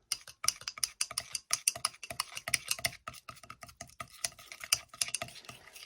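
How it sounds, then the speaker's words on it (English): A utensil stirs shimmer gold mica into body oil in a small container, making a rapid series of light clinking taps, close and quiet, continuing steadily with no voices. "let's go ahead and give that a stir"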